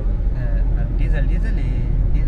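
A Maruti Dzire CNG car drives along with a continuous low engine and road hum heard from inside the cabin, while someone talks over it.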